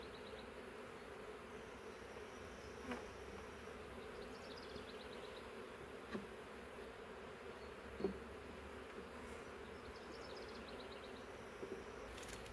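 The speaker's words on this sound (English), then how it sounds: "Thousands of bees." Steady, dense buzzing of thousands of bees caught in a swarm trap, a continuous drone with occasional louder passes near the listener.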